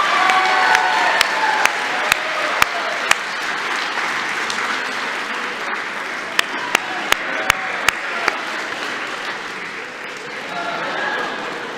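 A graduation-ceremony audience applauds for a graduate crossing the stage, sustained crowd clapping with a few cheers, and a presenter's voice speaking over it.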